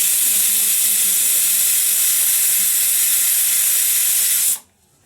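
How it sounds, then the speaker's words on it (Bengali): A pressure cooker with potatoes inside vents steam in a loud, continuous hiss close by, then cuts off abruptly just before the end. "প্রেশার কুকারে আলু বসিয়েছি"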